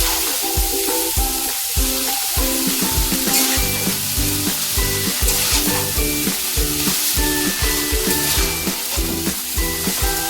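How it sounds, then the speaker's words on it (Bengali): Steady frying sizzle in a pan with repeated scraping and stirring strokes throughout as semolina chow mein with cabbage fries, close and fairly loud, no voices. "এবার কিছুক্ষণ এটাকে নাড়াচড়া করব।"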